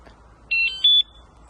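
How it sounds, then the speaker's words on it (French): A Rockbros electric scooter's built-in anti-theft alarm gives two short, piercing electronic beeps in quick succession, moderately loud against a quiet background, with no talking. "on va faire un test de l'alarme"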